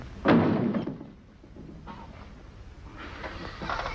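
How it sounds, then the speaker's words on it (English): A door bangs shut with one loud, sharp thud near the start in an old western setting, followed by a quieter room tone and faint rustling. "And don't slam the door as you go out."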